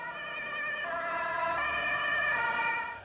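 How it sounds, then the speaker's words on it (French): A wailing ambulance siren sounds steadily and fairly close, its pitch wavering, with no voices, ending in a sharp burst of noise. "on la retrouve dans des klaxons, les alarmes ou même des sirènes d'ambulance"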